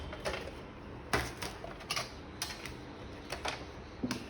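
Paper sheets being cut on a Dress My Craft cutting board, a series of quiet, crisp clicks and slices spaced irregularly, close and faint with no talking.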